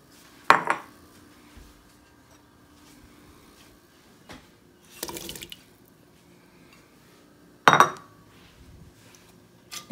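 Russet potatoes are stirred into a borscht pot with beets, producing a few sharp metallic clanks and scrapes at intervals over a quiet kitchen background.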